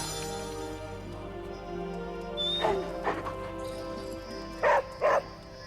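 A dog in the Marvel's Midnight Suns video game, reacting to being petted, gives a few short barks over steady game music, with two louder yips near the end.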